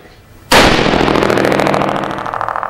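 A .308 rifle fitted with a Precision Armament EFAB muzzle brake fires a single deafening shot at an outdoor range, and its crack rolls into a long, reverberating decay.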